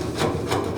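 A thick, solid heavy-duty scraper rasps across a truck cab floor during a restoration, giving steady gritty scraping with louder strokes recurring roughly every third of a second, close and continuous.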